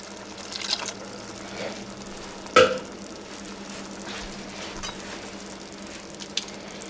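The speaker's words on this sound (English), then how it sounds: "Yeah, you can hear that water nearly boiling away in there." A pot of chickpea masala bubbles and sizzles softly on the stove, with a steady low simmering hiss and one sharper clink partway through.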